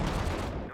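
Gunfire in the war strategy game Sudden Strike 4, a dense, noisy burst of shots packed into under a second, loud and close with no voices.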